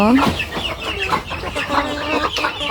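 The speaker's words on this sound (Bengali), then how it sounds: "আজকে এখান থেকে একটা মোরগ ধরব," A native village rooster clucks repeatedly in short, throaty bursts, close by and fairly loud, with no one talking.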